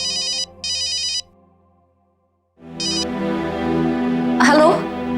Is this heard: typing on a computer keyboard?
no